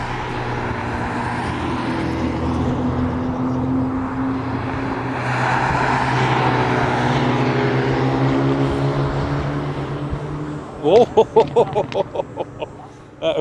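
A Hyundai Elantra N TCR Edition track car drives on a circuit, its engine droning loud and steady with rising and falling pitch, ending in a rapid burst of sharp pops or gear changes.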